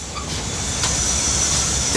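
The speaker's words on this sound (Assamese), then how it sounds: "তো এতিয়া আমি চলিম ট্ৰেইনত, এই আহিলোঁ ট্ৰেইনৰ ভিতৰত," Inside a moving train, a continuous loud rumble and hiss with a few faint clicks, alone without talk.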